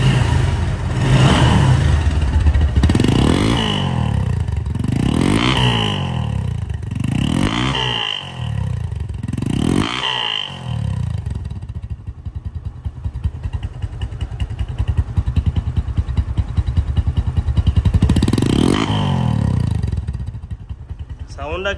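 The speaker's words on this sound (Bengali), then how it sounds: "বাইকটির আগে সাউন্ড কোয়ালিটি শোনাবো" A Discover 135cc motorcycle engine idles and revs loudly and close by in a series of repeated throttle blips, then settles into a steady, rough running note.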